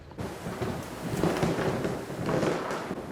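Steady rain falls on a drizzly afternoon street in Fountain City, a continuous moderate hiss of drops with a low rumbling undertone and no voices.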